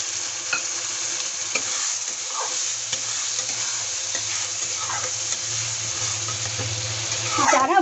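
Yogurt stirred into frying masala for bhindi masala (okra): an even sizzle under soft spoon scrapes, with a brief wet splutter and clatter toward the end.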